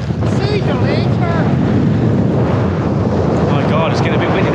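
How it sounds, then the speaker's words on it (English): Strong wind blows on a UK coast, a loud, constant roar buffeting the microphone, with people talking over it. "God, it's getting a bit windy now"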